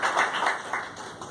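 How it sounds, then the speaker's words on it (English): Audience applause at a press conference for a ghazal festival, a short burst of mid-level clapping in a room, with loose rhythmic pulses that fade slightly toward the end. "A very big round of applause for the Union Bank"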